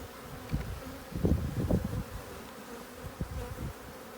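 Honey bees buzzing at an open hive during an inspection, a dense, steady hum of many insects with a few louder swells as bees fly close, fairly soft and free of talk.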